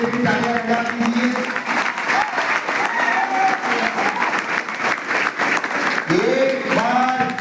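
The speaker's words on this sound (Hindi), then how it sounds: "एक बार मेरे लिए भी तालियां बजा दीजिए।" Loud, dense crowd applause fills a hall without pause, with an amplified voice speaking over the clapping now and then.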